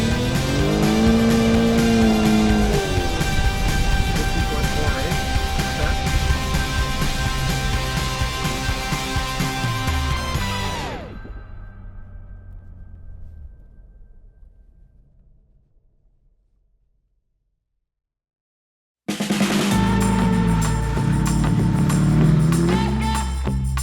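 A car sliding around a snowy winter autocross course at Road America, its engine loud and revving with harmonic sweeps for about ten seconds, fading out into silence, then returning loudly near the end.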